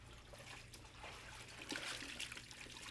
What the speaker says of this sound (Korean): 핏물을 빼낼 정도로만 살짝 삶아낸 고기는 찬물에 넣고 박박